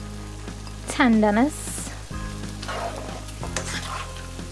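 Squid and celery stalks stir-fry in a pan, giving a steady close sizzle under a person's speaking voice, with some clatter from stirring.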